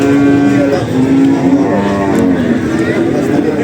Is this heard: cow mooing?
yes